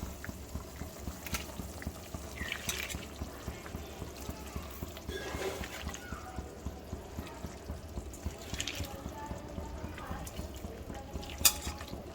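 Anchovies go into a fish curry already at a rolling boil, with soft plops and stirring over a constant low bubbling and simmering, quiet and close, with no voices.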